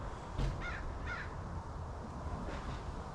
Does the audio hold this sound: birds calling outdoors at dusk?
yes